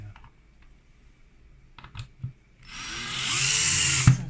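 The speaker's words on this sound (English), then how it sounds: "So on the opposite side, just screw them." Screws go into an IKEA Lommarp cabinet during assembly: a few soft clicks and taps of handling, then a close, loud burst of a powered screwdriver whirring for about a second and a half, ending with a knock.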